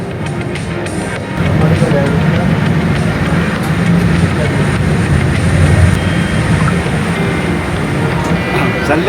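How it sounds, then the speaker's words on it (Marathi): Low rumbling ride on a train climbing a temple hill, a steady loud mechanical drone with rolling low-end noise throughout, after a quieter first second. "ही ट्रेनच आहे, हे रोपवे नाही आहे"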